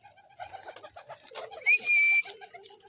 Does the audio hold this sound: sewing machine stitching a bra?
no